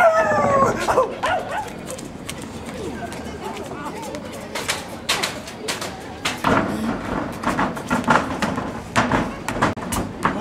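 A person imitates a dog, letting out a rising howl at the start followed by yelps and barking-like sounds, while people talk and laugh around it.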